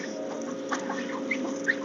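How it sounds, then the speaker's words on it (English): Domestic ducks crowd around a person's feet at feeding time in a backyard with chickens nearby, giving a busy, steady stream of soft quacks and chattering close by, with faint scattered calls over the low murmur. "I just always have ducks right at my feet."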